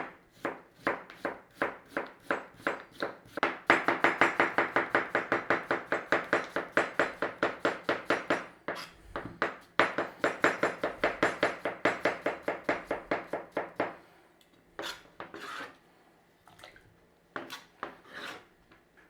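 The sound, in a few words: knife cutting potato into pieces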